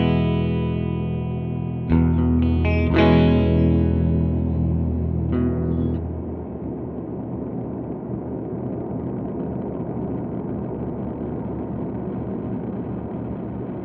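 Electric guitar through an Alexander Space Force reverb pedal with tremolo: a few struck chords ring out with heavy reverb, then trail off into a long washing, shimmering tail. No talk.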